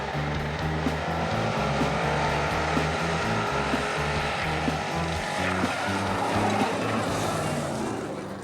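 Race cars, including open-wheel-class engines of roughly 510 to 540 cubic inches, roar steadily around an oval dirt track, a dense continuous engine drone with layered harmonics that holds loud throughout with no gaps.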